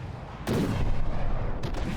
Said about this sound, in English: It seems that only one cram cannon is functioning, and not very well at that.